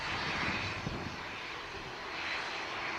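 A Gulf Air jet airliner near Manchester Airport gives a steady, broad engine roar that holds at an even loudness for the whole stretch, with no voices.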